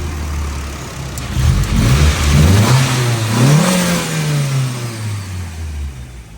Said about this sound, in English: But go ahead, fire it up, Eddie.